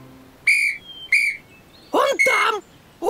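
Two short, shrill whistle blasts sound in the Russian children's cartoon Luntik, followed by a character's brief voice and another whistle-like tone.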